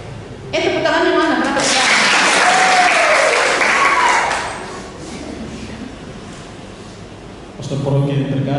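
Congregation clapping at a church farewell gathering, a burst of applause lasting a few seconds between stretches of speech, fairly loud and close, with talking before and after.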